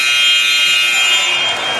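A loud, sustained electronic buzzer blares over a high school basketball game between the Lamar Tigers and Frontenac Raiders, a harsh steady tone lasting nearly two seconds that fades slightly toward the end.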